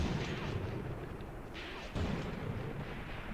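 Tank guns fire in the Graviteam Tactics World War II game set around Kharkov in 1942, a sustained heavy, rumbling barrage with a sharper boom near the middle, dense and continuous throughout with no talk.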